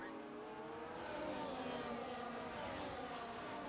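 Race cars in a racing video game roar past, engines droning steadily with layered whining harmonics across a few seconds, loud and continuous.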